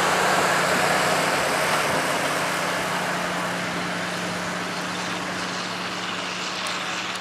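A small 1940 Lansing Bagnall aircraft tug runs its engine at a steam fair, giving a steady, close, loud drone with a constant low hum throughout.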